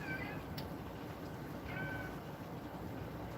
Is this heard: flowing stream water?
no